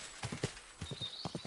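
A horse in Kingdom Come Deliverance 2 walks with a steady clip-clop of hooves, its rhythmic footfalls close and clear over a faint high background tone.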